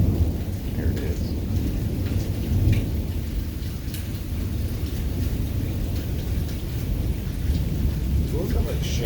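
Early morning thunderstorm at a house, steady heavy rain pattering on surfaces with continuous low rolling thunder rumbling throughout, fairly close and dense, with no voices.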